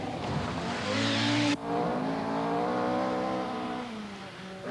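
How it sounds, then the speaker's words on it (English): An Audi Quattro Sport rally car at the 1984 RAC Rally, its engine revving hard and repeatedly to the rev limiter, with a loud rising whine, shift breaks, and a long strained pull. "And urging her Quattro Sport repeatedly to its rev limiter, Michèle Mouton is restored to the fray"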